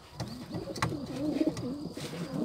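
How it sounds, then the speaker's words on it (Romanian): A domestic pigeon coos in soft, rolling phrases, close by and steady for a couple of seconds, with no talking over it. "n-am avut niciodată așa porumbel."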